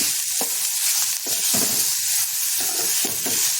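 Crushed garlic and ginger, added with coriander powder, fry in a pan with a loud, steady sizzle broken by occasional stirring scrapes.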